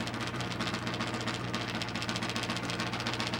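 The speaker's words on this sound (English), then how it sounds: "A Harley-Davidson powered machine makes a sound that a lot of these fans just love to hear" Harley-Davidson powered hillclimb motorcycle at an AMA Pro Hillclimb event revving steadily, a loud, dense engine roar with rough pulsing texture that fills the clip without pause, close by with no talk.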